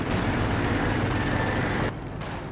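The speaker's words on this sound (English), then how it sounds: "Katyusha doing a forward barrage right in range of the Panther" A Katyusha rocket artillery barrage rumbles in Company of Heroes 2, a dense, loud, continuous roar of launches and impacts that drops away abruptly near the end.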